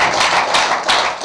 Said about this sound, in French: On applaudit pour l'école de l'élite africaine